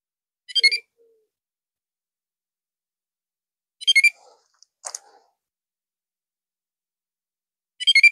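Electronic bite alarm on a carp fishing rod, switched on at the water's edge, giving three short bursts of high beeps spaced several seconds apart with a faint click between them.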